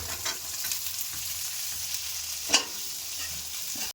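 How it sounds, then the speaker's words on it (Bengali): Tomatoes and peas stir-fry in a pan with turmeric and coriander powder, giving a steady close sizzle with soft scraping and one sharp spatula clink partway through, with no talking. "সবগুলো এবার ভালো করে কষিয়ে নেব।"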